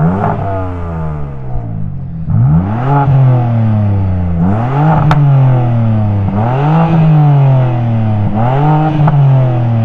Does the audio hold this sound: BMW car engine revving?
yes